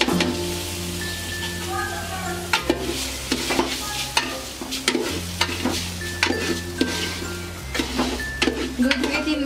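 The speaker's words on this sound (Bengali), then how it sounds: "দুই থেকে 3 মিনিট আমি চালটাকে ভেজে নেব।" Rice for chicken biryani is frying in a pan, a steady sizzle with repeated scraping stirs of a spoon at close range, and a voice speaks over it.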